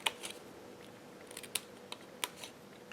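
Scissors snip through material for a multi-compartment box, giving a series of short, sharp, crisp cuts at an uneven pace, close and fairly quiet, with no talking.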